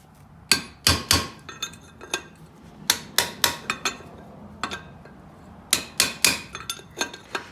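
Sharp metallic hammer blows on a chisel drive out the wheel bearing race on a vintage camper hub, coming in uneven bursts of two to four ringing strikes with short pauses between, close and loud.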